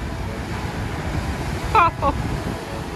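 Rough ocean waves crashing at the Queen's Bath in the Bahamas, a steady roar of surf mixed with wind buffeting the microphone, and a brief exclaiming voice partway through.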